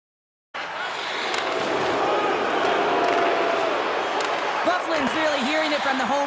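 Home arena crowd in NHL 24 hockey video game roaring steadily throughout, a dense sustained wall of cheering and jeering with a commentator voice talking over it.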